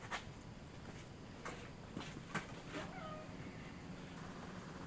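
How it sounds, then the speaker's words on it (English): Nomad, a pet cat, gives a few soft meows close by, several short calls spaced across a quiet room with faint background hiss. "It's a cat."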